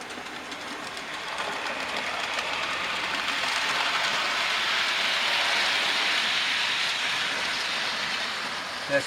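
A model Black 5 locomotive runs on a loft layout, giving a steady, close, whirring rumble with a faint rhythmic clatter that holds level throughout and ends in a brief click.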